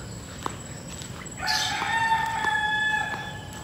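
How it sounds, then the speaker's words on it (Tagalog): A rooster crows once nearby in a quiet residential village setting, its long, tonal call rising and holding for about two seconds over a soft background hush. "Yung mga tilaok lang ng manok ang naririnig."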